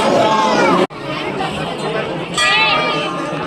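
A packed crowd chatters at Marleshwar temple in the Sahyadri hills during aarti, a steady babble of many voices close around, with brief bright chimes cutting through near the end.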